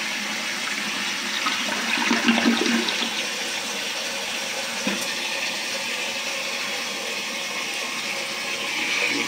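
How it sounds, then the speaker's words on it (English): Water from a brass fill valve sprays steadily into the tank of a 1967 American Standard toilet, a continuous close hiss and rush of refilling that holds level throughout with no talking. "It's quiet except for all that water spraying in the tank from that little tube."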